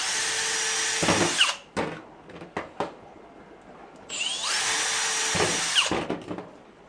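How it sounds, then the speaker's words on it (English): A power drill bores a hole into a plastic elbow fitting in two loud whining bursts, each ending in short grinding and rattling bits as the bit cuts through. "And then drill a hole in the top of this elbow."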